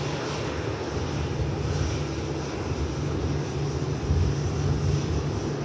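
An airliner operating the Delhi flight at Manchester Airport produces a steady, loud engine roar with a low hum, holding fairly constant throughout, without voices.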